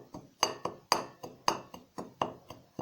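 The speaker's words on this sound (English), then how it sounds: "I will just stir it." A spoon stirs cake batter in a bowl, giving a steady series of light clinks against the side, about two strokes a second, close and fairly quiet with no talk.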